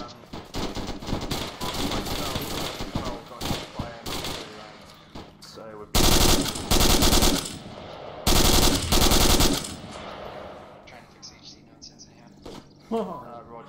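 Gunfire in a military mission video game, with sustained machine-gun bursts and loud, dense volleys of shots, some distant and some close, under intermittent radio-style talk.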